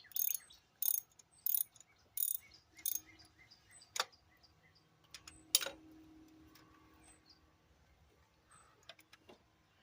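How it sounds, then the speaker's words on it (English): Ratchet wrench removing a stud from the fuel rail of a 1996 Chevrolet Lumina, a series of short close clicking bursts followed by scattered metallic ticks and faint scraping. "Just trying to remove the entire stud rather than just take the nut off."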